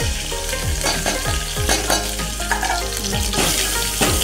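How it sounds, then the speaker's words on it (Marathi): Ground garlic frying in oil with mustard seeds and curry leaves for a buttermilk kadhi tempering, a loud continuous sizzle with crackling pops and repeated stirring scrapes close up. "त्यामध्ये आपण मिक्सरमध्ये बारीक करून घेतलं लसूण आणि टाकली"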